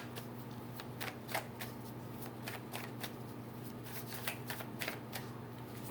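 Tarot cards being shuffled up close, a quick series of crisp riffling snaps and flicks repeating irregularly over a faint steady hum, with no talking.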